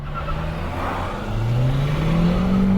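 Opel Astra J diesel car pulling away hard from a standstill, the engine note rising steadily in pitch and loudness as it accelerates, heard from inside the cabin with no talk.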